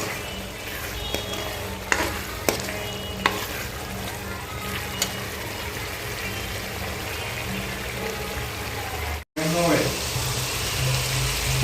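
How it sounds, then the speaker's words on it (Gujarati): Tomatoes cook and sizzle in a pan for pav bhaji while being stirred, a steady close frying hiss with occasional sharp clinks of the spoon and one brief gap near the end. "હવે આપણે ટમેટાને થોડીક વાર ચડવા દઈશું."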